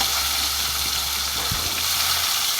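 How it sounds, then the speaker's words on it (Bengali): Round slices of bitter gourd fry in mustard oil in a pan, a close, steady, continuous sizzle with a faint low hum beneath. "প্রথমে আমি উচ্ছেটা ভেজে নেব।"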